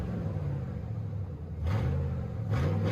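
A deep, loud straight-piped 6.0 Vortec V8 in a GMT800 Cadillac Escalade rumbles at idle, then revs up sharply twice in short bursts, close by.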